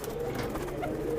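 Soft, low cooing of pigeons kept by a pigeon club in Delhi/Haryana, a brief murmuring coo at close range under a hum of background noise.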